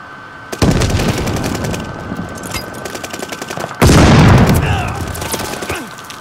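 Welgun submachine gun from Call of Duty: Vanguard multiplayer firing in two loud, sustained automatic bursts, the second starting abruptly and trailing off, with bright rapid repeated shots filling the mix.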